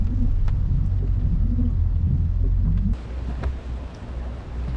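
Steady rain falls in Florida with a deep low thunder rumble underneath, loud at first and then easing to a lighter patter with scattered drops.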